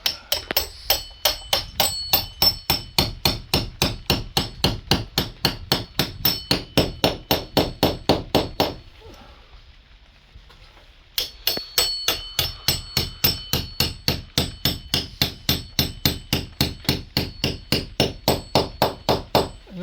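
Steady hammer taps driving bolts with nuts and washers into a first-floor joist extension, rapid, evenly spaced sharp blows running loud and close, with a brief pause of quieter rustling midway before the tapping resumes.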